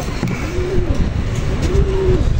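Racing pigeons coo in low, rolling calls close by, two swelling phrases heard over steady background noise with no talk.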